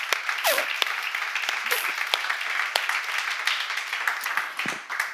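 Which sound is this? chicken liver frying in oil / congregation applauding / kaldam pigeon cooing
congregation applauding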